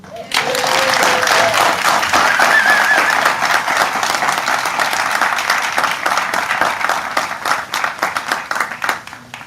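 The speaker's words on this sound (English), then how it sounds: "Can we give a round of applause to all of our morning's wonderful performers?" An audience at a partnership announcement ceremony breaks into sustained, dense applause that fills the whole stretch, loud and steady before slowly thinning into scattered claps.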